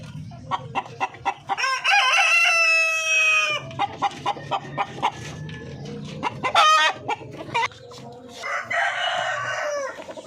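Darag native chicken hens cluck in quick bursts while a rooster crows loudly twice, close by, with barnyard chatter continuing between the calls.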